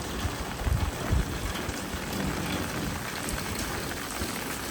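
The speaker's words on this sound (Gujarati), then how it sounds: "વરસાદ આવ્યો છે" Steady rain pours onto an outdoor yard by a village house in Savarkundla, a dense continuous patter with a few louder nearby drops, no voices.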